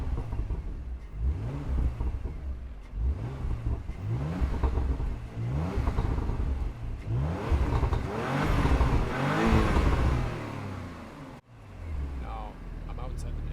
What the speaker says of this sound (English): Now let's hear the exhaust once again.